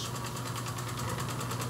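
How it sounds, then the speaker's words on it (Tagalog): The engine of a car wash pressure machine at a backyard piggery runs at a steady, even idle with a constant high-pitched hum, with no talk over it. "Ito po ang makina ng car wash."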